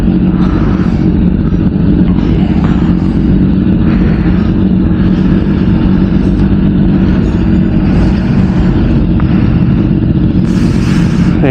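A KTM Duke 390 motorcycle engine runs close by on a Sunday morning superbike ride in Krishnagiri, giving a loud, steady, unbroken engine drone with small swells in pitch and no talk over it.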